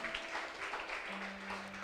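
A church congregation applauding after a prayer, a steady wash of clapping from many hands throughout, moderately loud with a faint background hum and no clear talk.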